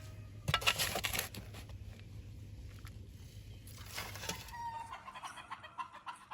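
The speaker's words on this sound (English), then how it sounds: "Sorry for the chicken noise, that's farm life" Chickens cluck and squawk on a farm, a loud burst of fowl calls near the start and another flurry a few seconds later, with quieter clucking between over a low background hum.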